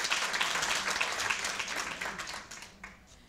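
An audience applauds at a memorial lecture and award ceremony, a dense sustained burst of clapping that tapers off toward the end.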